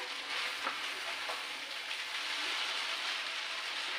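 Chow mein sizzles and fries steadily in a hot pan as tomatoes are tossed in, with a continuous crackling hiss and a few soft stirring clicks and no talking.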